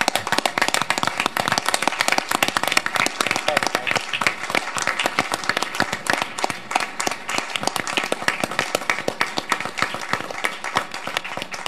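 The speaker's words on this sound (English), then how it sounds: "Can we give them a round of applause?" Loud, sustained applause from an audience at a city council meeting in Orem, with dense rapid clapping that stays strong and steady throughout, with faint voices beneath it.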